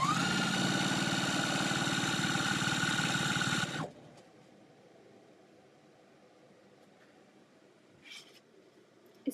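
Home sewing machine running steadily and close for about four seconds, then stopping abruptly, leaving a quiet room with a few faint clicks and rustles.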